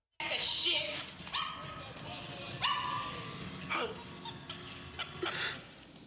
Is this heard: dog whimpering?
yes